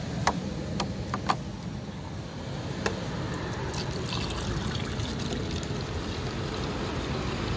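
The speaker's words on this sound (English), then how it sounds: "So we're gonna go ahead and add the water in there." Water pours into a car's windshield washer reservoir in a steady close trickle, with a few sharp clicks and knocks early on from handling the container.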